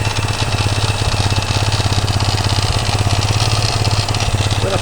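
A Honda FTR 230 engine fitted in a CTX200 frame idles close by, a steady, even thumping run with a slight lift in revs, loud and alone throughout.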